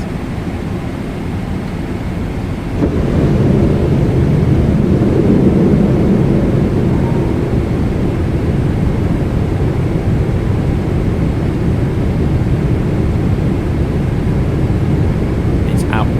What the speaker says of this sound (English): if we lower the landing gear, it's absolutely deafening, especially if you do it at 250 knots